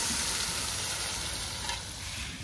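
Desi chicken dropped into a pan of browned fried onions sizzles loudly and steadily, a dense hiss with faint stirring scrapes, close up and without any voices.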